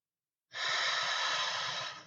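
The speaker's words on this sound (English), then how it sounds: "breathing in through your nose with the tongue to the roof of your mouth" One long, steady breath drawn in through the nose during a calming exercise, a close airy hiss that starts abruptly after silence and holds evenly before tapering off, with no talking.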